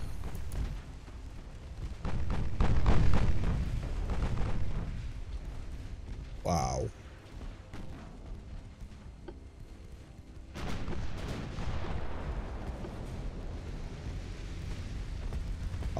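Naval gunfire in the warship battle game Ultimate Admiral Dreadnoughts: one sharp heavy shot near the middle, with deep rolling booms and battle rumble around it and talk over parts of it.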